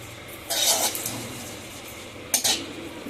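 Mustard paste is rubbed and scraped in a bowl while making a thin mango sour dish, giving two short bursts of scraping and clinking against the bowl, close and fairly loud, with quiet pauses between them.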